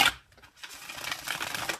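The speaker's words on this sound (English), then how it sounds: "One last shuffle for Virgos." Tarot cards riffled and shuffled close up, a sharp snap at the start followed by a steady papery flutter that builds and fades, with no talking.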